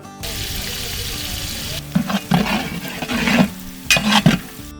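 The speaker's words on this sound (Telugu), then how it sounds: "ఎర్రగడ్డలు బంగారు కలర్లో వచ్చేదాకా వేగినిద్దామన్నా" Sliced onions, about a kilo, fry in hot oil in a pan for a mutton curry, with a steady sizzle and a scraping stir that comes in bursts toward the end.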